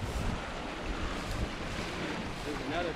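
Water rushes through a breached beaver dam after a tannerite blast, a steady broadband roar with wind buffeting the microphone throughout and no talk over it.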